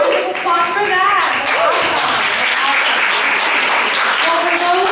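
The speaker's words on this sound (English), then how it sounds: "Applause for that." Loud audience applause at a youth civic engagement candidate forum in Miami, continuous clapping with whoops and cheering voices mixed in throughout.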